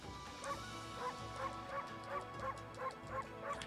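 A wolf's bark from the video game Okami: eight short yipping barks at a steady, even rhythm, moderately loud over a faint game soundscape.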